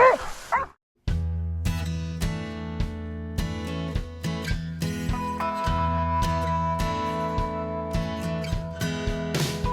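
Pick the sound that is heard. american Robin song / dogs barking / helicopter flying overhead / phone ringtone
dogs barking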